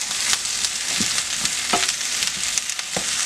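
Mixed vegetables for pepper steak stir-frying over high heat, a steady close sizzle with scattered soft scrapes and clicks of stirring throughout, no voices.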